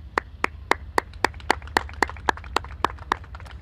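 A single pair of hands claps in a steady, evenly spaced rhythm, about a dozen crisp claps nearby over a low hum, at a groundbreaking event, with no broader crowd applause.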